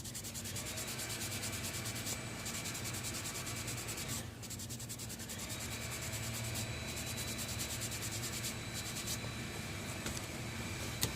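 A baby wipe rubs steadily across an ultra satin sash to lift a stain, giving a continuous soft, close scrubbing hiss with a brief pause partway through.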